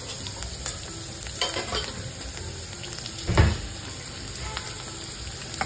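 Hadga flowers sautéing in oil with hing and turmeric, a low continuous sizzle with scattered stirring scrapes and one dull thump midway, near and without talk.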